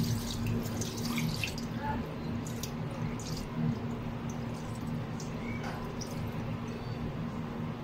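Running water rinses milkfish innards (laman loob) in a Dagupan market setting, a steady splashing and dripping wash under a constant background hum, with voices talking faintly nearby.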